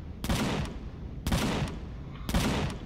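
A sentry gun fires in a video game in three short, loud bursts of rapid shots, spaced about a second apart, with quieter gaps between them.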